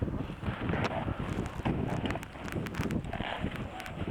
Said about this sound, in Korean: 거친 바람